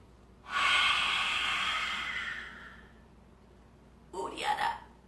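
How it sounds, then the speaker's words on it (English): A long, forceful breathy exhalation with the tongue out, as in the yoga lion's breath, sustained for about two seconds and fairly close, followed by a shorter sharp breath. "Lion's breath. Stick your tongue out."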